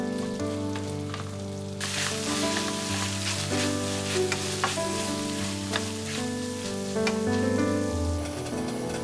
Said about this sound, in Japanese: よく炒めていきましょう。